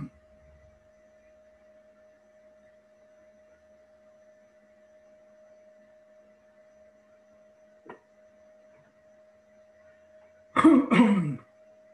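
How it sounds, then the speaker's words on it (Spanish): A single harsh cough burst near the end, close and fairly loud, preceded by a faint short throat sound, over a steady electrical hum in a quiet physics lecture room. "antes que me agarrara el ataque de tos"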